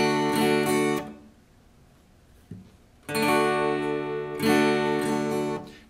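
Acoustic guitar chords, D moving to C, are strummed slowly with upstrokes in two bursts separated by about two seconds of near silence.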